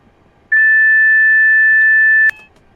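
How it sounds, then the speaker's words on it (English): Warning alarm from a train cab in Train Simulator Classic on the Medway Valley line: a single loud, steady electronic tone held for about two seconds, then cut off abruptly with a click, heard alone over quiet cab rumble. "Noisy, noisy beast called AWS, the automatic warning system."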